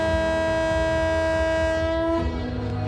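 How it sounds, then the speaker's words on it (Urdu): A Karachi Circular Railway train sounds a loud sustained horn, a steady multi-toned blare that cuts off after about two seconds, over the rumbling clatter of the train pulling into City Station, with no talk. "سیٹی بجتے ہی ٹرین نے دیدار کرا دیا"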